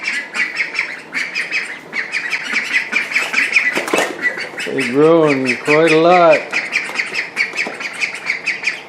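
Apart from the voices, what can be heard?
ducks quacking and flapping wings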